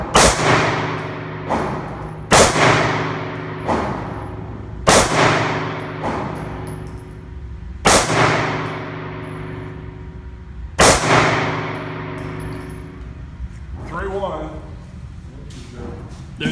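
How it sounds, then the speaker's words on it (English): SIG P365 pistol fired five times at an indoor-sounding range, loud sharp reports spaced a few seconds apart with ringing decay, while people talk in between. "He's gonna do 5 rounds with the SIG P365."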